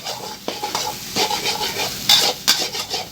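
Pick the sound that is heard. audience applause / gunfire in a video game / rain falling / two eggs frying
two eggs frying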